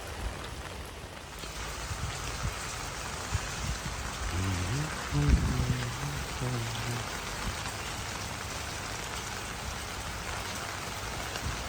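Heavy rain pours down in Kerala, a loud unbroken hiss of drops hitting surfaces close by, with a brief faint melody and a soft thud partway through.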